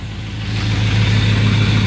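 A straight-piped LBZ Duramax diesel pickup idles after a frigid cold start, its deep exhaust rumble swelling slightly before settling into a loud, steady, pulsing drone close by, with no talking.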